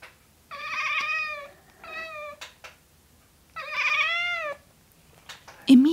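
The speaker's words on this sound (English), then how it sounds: "If you're a cat owner, you probably know what it sounds like." Domestic cat chasing a laser pointer lets out two long, loud drawn-out meows close by, with a shorter chirp-like call in between and a sharp squeak at the end.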